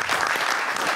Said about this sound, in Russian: Анатолий, эти аплодисменты в ваш адрес.